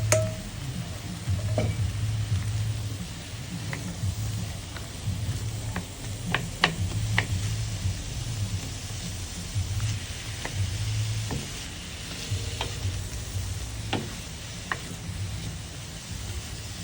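Vegetables sizzling steadily as they fry in a pan beside wild-caught snapper, with sharp clinks and scrapes from stirring scattered throughout.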